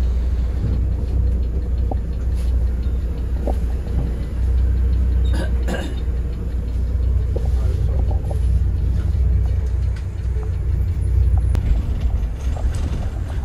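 A Volvo B7R bus on the Kolhapur-Pune road, heard from inside as a loud, continuous low engine and road rumble with occasional faint rattles and thumps, no talk.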